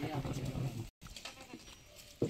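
Goats bleat at a goat farm in Beed district, Maharashtra, with Beetal-type goats, the calls short and mid-distance, mixed with people talking nearby and a brief break in the sound partway through.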